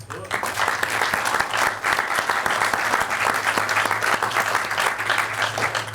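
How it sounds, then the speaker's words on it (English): A crowd at a Vine Grove Veterans Day parade and program applauds steadily and loudly for several seconds, dense clapping with a constant low hum underneath and a voice briefly audible. "let's give a round of applause to the City of Vine Grove that has done this event for 27 years"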